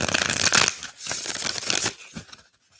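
A deck of cards shuffled up close, with a run of dense papery riffling bursts that thin out and stop near the end, with no voices over it.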